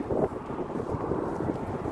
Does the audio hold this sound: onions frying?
no